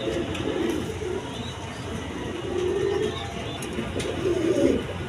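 A pair of racing pigeons, a cock and a hen, coo in soft repeated bursts at close range, with low rumbling background noise throughout.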